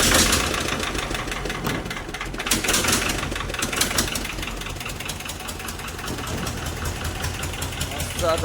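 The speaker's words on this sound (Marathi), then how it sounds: "ही बघा बोट तो चालू करतो मस्त." A boat engine starts and settles into a steady idle, a dense continuous mechanical rumble running throughout at close range, with voices talking over it.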